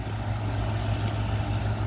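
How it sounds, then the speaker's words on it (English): A home air conditioner runs with a steady low hum and broadband whoosh, constant and unchanging for the whole stretch, moderately loud with no talking. "What you're hearing right now is my air conditioner"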